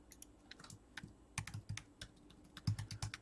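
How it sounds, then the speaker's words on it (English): Fingers typing on a computer keyboard while working on an Atari Flashback 2 mod, irregular quiet key taps in short bursts, close and clear with no talk. "you can look at that and my fat fingers typing"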